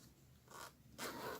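A zipper on a fabric cushion cover is pulled closed in two quick, faint zips close by, with no voices.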